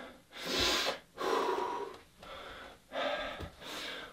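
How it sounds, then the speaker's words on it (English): Heavy breathing after a kickboxing workout comes through as four long, loud breaths, close up, with airy inhales and exhales in an uneven rhythm. "And we breathe"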